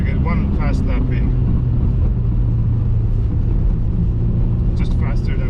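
A Subaru Impreza WRX STI with all-wheel drive is pushed for a fast lap on an ice track, its engine a loud, steady droning roar that holds without a break.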